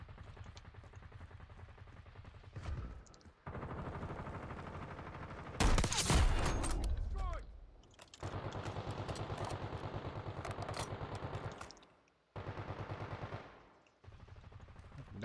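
Rapid automatic gunfire rattles in long sustained bursts during a Call of Duty: Warzone match, broken by short pauses and one louder, heavier blast midway, all close and dominant with no talking.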